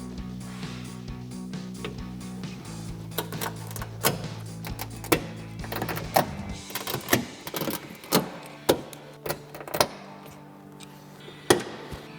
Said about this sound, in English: Then we'll grab our clip tool and remove all of our retaining clips.